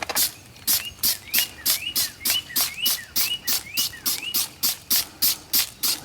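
A foam sprayer on a bottle of tire and rubber cleaner is pumped about seventeen times in quick, even succession, each stroke a sharp hissing spurt with a faint squeaky chirp, up close with no talking.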